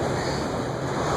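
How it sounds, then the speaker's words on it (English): Strong, gusty wind roars steadily outdoors as broadband buffeting noise that fills the whole moment, close and loud against the microphone, with no voices. "It is dangerously windy outside."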